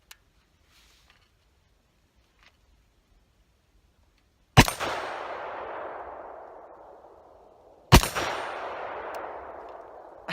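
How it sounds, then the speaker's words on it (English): Two loud rifle shots from an SWR Specwar 5.56 with a muzzle brake fitted, each a sharp crack followed by a long, booming outdoor echo that decays over a few seconds, with near silence before the first. "So I actually want to shoot this brake a little bit more."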